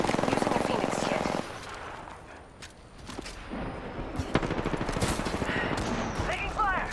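Gunfire in Apex Legends on the Storm Point map: a fast rattling automatic burst up front, then sharp scattered shots and further rapid fire amid game effects, with a voice speaking briefly.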